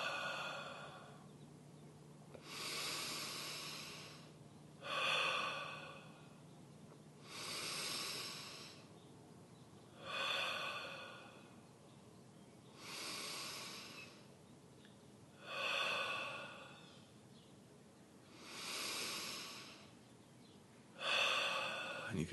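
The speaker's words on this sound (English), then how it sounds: "on the in-breath, we're breathing in through the nose and then out through the mouth" Slow, deliberate meditation breathing, in through the nose and out through the mouth, repeats about eight times in an even rhythm, each breath a soft rushing swell close to the mic and separated by near-silent pauses.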